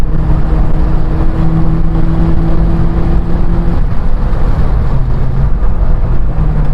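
A Lotus Elise with a Toyota engine accelerates harder, a loud steady engine drone heard from inside the car, holding a constant tone before shifting pitch partway through, with heavy road and wind rumble throughout.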